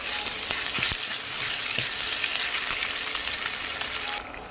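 Steady, loud sizzling of onions and chilies frying in a pan, with a few clinks of a utensil, continuous throughout.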